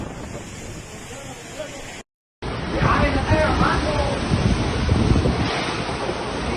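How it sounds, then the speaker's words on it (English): Hurricane Roslyn's winds strike the Pacific coast of Mexico at Acaponeta, Nayarit, with gusts reaching 250 km/h, a loud, steady roar of wind and surf buffeting the microphone, broken by a short silent gap before resuming. "Wind gusts reached 250 km per hour."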